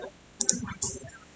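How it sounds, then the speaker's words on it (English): A computer mouse double-clicks, two quick sharp clicks close together, followed by a third click as a voice speaks over them. "we will just double click on it"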